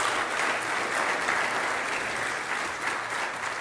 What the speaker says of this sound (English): These leaders and everything deserve a round of applause